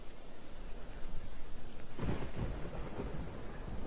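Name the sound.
toxic rain falling in Roblox camping video game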